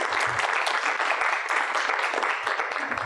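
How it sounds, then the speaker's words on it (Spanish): An audience at a public panel on water culture gives a strong round of applause, a thick, even wash of clapping that holds steady throughout. "Un fuerte aplauso, por favor."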